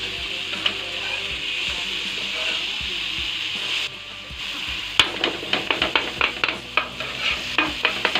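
Goat brain frying with mutton masala in a pan, sizzling steadily before a brief lull, then repeated sharp scrapes and taps from a spoon stirring, close and fairly loud.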